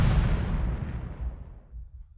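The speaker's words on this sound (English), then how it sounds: "Yes, that's the sound of my head exploding." An explosion sound effect booms loudly at the onset, then rumbles and gradually fades away over about two seconds, with no voices.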